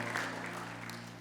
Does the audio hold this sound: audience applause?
yes